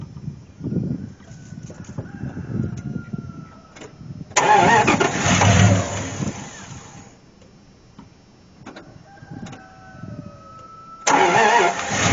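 An old engine that has sat for years, cranking and coughing to life in two loud bursts separated by a quieter stretch of rough idling and shuffling. Birds are faintly audible in the background.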